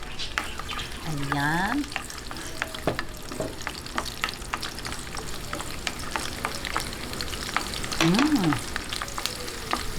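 Garlic frying in about a cup of olive oil, a steady crackling sizzle running throughout, with a brief spoken word and faint utensil stirring near the start and again later.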